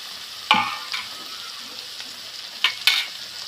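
Capsicum pieces fry with ginger garlic paste in a pan, a steady soft sizzle underneath with a few sharp bursts of stirring and spatula scrapes, close and clear, no talking.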